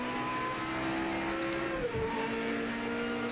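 An old GT500 racing car in Project Motor Racing holds 4th gear out of a final corner, its engine droning loud and steady, with a brief dip and pitch shift midway as it slides slightly.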